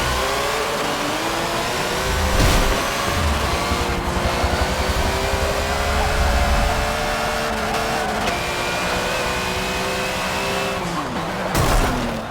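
A Porsche race car in Forza 7 roars under hard acceleration, its engine revving steadily through gear changes with brief tire squeals, loud and close throughout.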